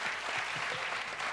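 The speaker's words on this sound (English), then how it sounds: "And a round of applause for John." Applause from an audience at a tech startup demo day investors panel, a steady dense wash of clapping filling the short moment without a break.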